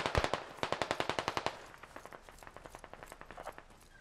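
DShK heavy machine gun firing in the video game Squad: a rapid, steady burst of evenly spaced heavy shots, then a second, more distant-sounding burst, fairly quiet overall.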